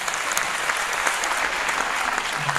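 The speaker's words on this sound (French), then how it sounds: "On l'applaudit" Audience at a French stage hypnosis show claps for a volunteer called up from the crowd, a dense, steady round of applause filling the room with no pauses.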